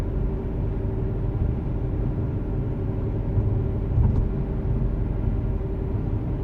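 Steady low road rumble and faint wind hiss inside a moving 2000s Mercedes CLS550 W219 sedan, a quiet continuous cabin drone with no talking.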